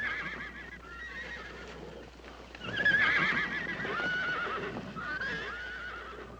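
Horses whinny and neigh repeatedly during a roundup, with hooves clopping underneath, moderately close and loud.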